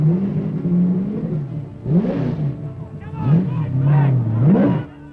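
A Holden Commodore race car from the Marlboro Holden Dealer Team at the 1981 Bathurst James Hardie 1000 revs repeatedly, its engine note sweeping up and down in several surging bursts, close and loud.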